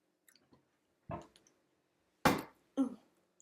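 Crunchy bites of a veggie wrap filled with quinoa, avocado and black beans, heard as three distinct close crunches spaced apart against a quiet background.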